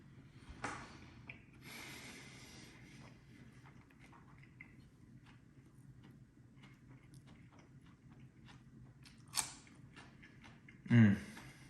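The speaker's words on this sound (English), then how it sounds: "You can probably hear the crunch from the chilies." Crisp crunches of chilies being chewed during a Korean BBQ meal, several sharp close bites scattered across a quiet background, with a louder burst near the end.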